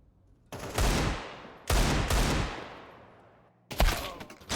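Rifle gunfire in Counter-Strike comes in three loud, close bursts of rapid shots, each trailing off in a long reverberant decay before the next volley.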